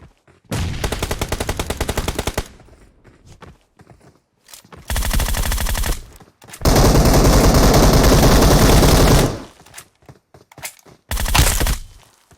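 Automatic rifle and machine-gun fire in PUBG Mobile from an M416 and an MG3, loud close bursts in several long sustained strings separated by short pauses, ending with a brief final burst.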